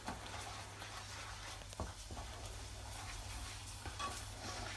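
Kadai paneer curry with capsicum being stirred in a hot pan, with soft scraping strokes over a continuous gentle sizzle and a low hum in the background.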